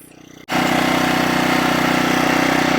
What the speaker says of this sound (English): The generator works.